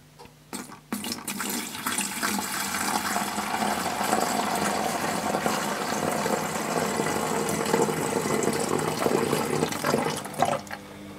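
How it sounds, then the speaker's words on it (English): Cleaning solution gushes into the tank of a Vax Rapide Ultra 2 carpet washer after a few clunks of handling, a loud, steady splashing and filling sound close by that runs for several seconds before a final knock. "So we'll first pour in the solution."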